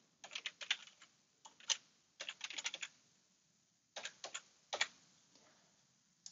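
Fingers type on a computer keyboard in short bursts of quick, light key clicks separated by pauses, quiet and close with no talking.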